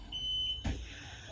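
A Piron Explora oven sounds a single sustained electronic beep signalling a tray is ready, followed by a brief thump and soft room noise.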